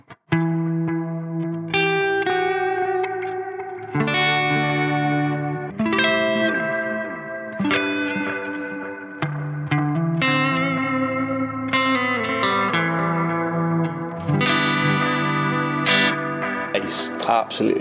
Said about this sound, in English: If you add a bit of spring reverb in.